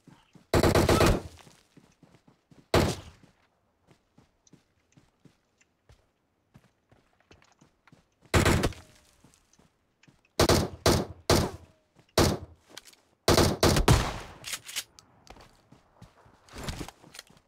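A bot firing in the mobile battle royale game PUBG Mobile, short loud bursts of gunshots separated by quiet gaps, with faint footsteps and soft game sounds between volleys.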